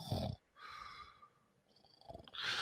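A man imitates snoring with his voice, making a few rough, raspy breathy snorts separated by short pauses, close and fairly quiet.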